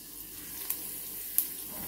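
Pieces of pork frying in hot oil for Jamaican pot roast pork give a soft, steady sizzle, with two brief sharp pops.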